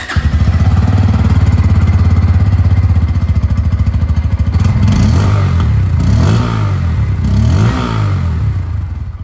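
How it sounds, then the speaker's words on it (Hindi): A Bajaj Pulsar N160 motorcycle with an underbelly exhaust idles loud and close with a steady throbbing thrum, then gets three quick throttle blips that rise and fall in pitch, with no talking. "मैं आप लोगों को यहाँ पर सबसे पहले N 160 की जो एग्जॉस्ट साउंड है वो सुना देता हूँ"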